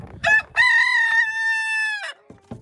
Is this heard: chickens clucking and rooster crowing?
yes